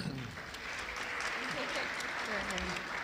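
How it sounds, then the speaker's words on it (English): Audience at a panel event on hybrid work giving a round of applause, steady moderate clapping with a voice talking faintly underneath. "Please give her a round of applause."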